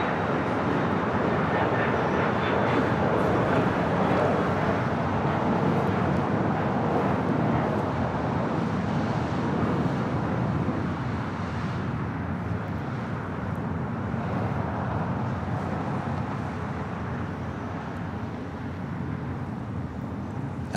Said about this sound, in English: This flight heading back to Beijing, Air China, flight 988,